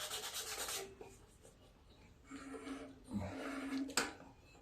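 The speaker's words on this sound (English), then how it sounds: "I'm gonna sand the magnet down while I am here." Sanding the magnet on the flywheel of a Craftsman Briggs & Stratton push mower engine: close, scratchy rubbing strokes come in bursts with short pauses, with no talk.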